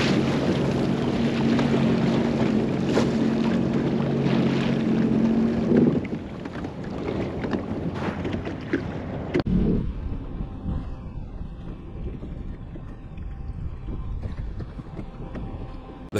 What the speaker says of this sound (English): Federal Kushiro is a bulk carrier vessel built in 2004 by Shin Kurushima in Tokyo, Japan